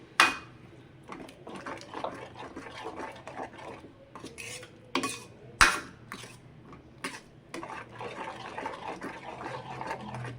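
Chana masala being stirred and fried in a pan, with repeated scraping and rubbing strokes of a spoon against the metal and a few sharper clinks, close and steady throughout.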